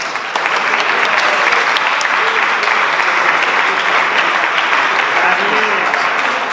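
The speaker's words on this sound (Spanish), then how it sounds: "Un aplauso." An audience at a Pint of Science event bursts into loud, sustained applause, dense continuous clapping from a crowd with some voices faintly beneath it.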